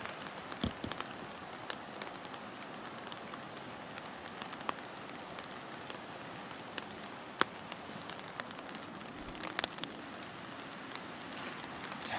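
Steady outdoor rain hisses across the whole stretch at a river valley, with scattered sharp drop taps and ticks standing out close by; no one speaks.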